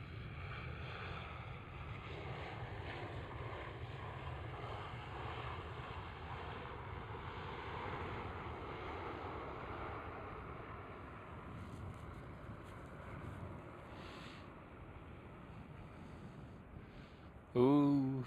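Lufthansa airliner departing a runway at Amsterdam Schiphol airport, a distant low, steady jet engine roar mixed with wind noise, fading slightly, with a short loud bump at the end.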